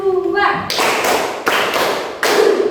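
A classroom group of students does a rhythmic cheer clap after a group presentation, loud bursts of hand claps in short patterned bunches, opening with a brief voice.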